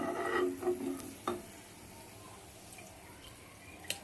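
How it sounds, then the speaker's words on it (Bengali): Malpua made from batter frying in oil for Holi, with a soft, steady sizzle and a few spatula scrapes and taps near the start and one sharp click at the end. "লাল লাল করে মালপাটা ভাজা হয়ে গেছে এবার তুলে নেব"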